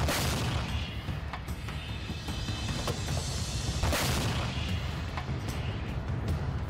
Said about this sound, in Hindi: पाकिस्तान में बने तोप के ये गोले रूस की सेना पर आग उगल रहे हैं।